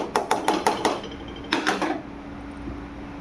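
A spoon knocks against a cooking pot during stirring: a quick run of about six sharp metallic clinks, a short pause, then three more clinks, all close and clear, with a faint low hum underneath.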